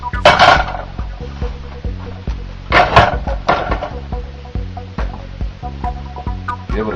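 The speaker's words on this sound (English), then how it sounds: "Give it a quick stir." Spoon scraping and clattering through chili ingredients in a 7-quart slow cooker, a few loud stirring strokes over a faint humming background with rhythmic tones.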